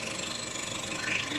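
Engine bay of a 2010 Nissan Pathfinder with a rebuilt motor, giving off a steady mechanical chattering, ratchet-like ticking noise at close range, continuous and fairly quiet with no talking.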